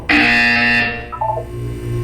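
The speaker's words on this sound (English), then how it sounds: "You will hear a buzzer. When you hear the buzzer, look down at the floor." A loud electronic buzzer in Portal 2 blares for about a second, then a lower tone steps down and lingers as a softer hum.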